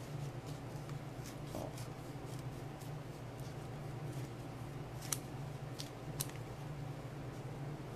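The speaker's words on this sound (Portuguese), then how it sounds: "Vou recortar o excesso." Small scissors snip the excess material from the edges of a handmade doll, giving a few faint, sharp clicks over a quiet steady hum at close range.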